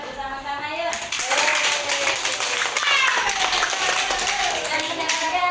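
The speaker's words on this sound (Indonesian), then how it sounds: "kasih tepuk tangan bersama-sama yuk." Children clapping together in a classroom, a dense, bright patter of many small hands that starts after a brief spoken line and continues steadily, with voices talking over it.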